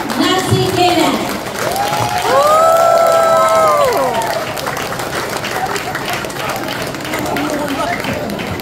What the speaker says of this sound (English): let us give her a big round of applause